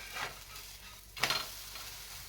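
Thalipeeth fries in ghee on a pan after being flipped, a soft continuous sizzle with a brief louder scrape and crackle burst in the middle, no voices.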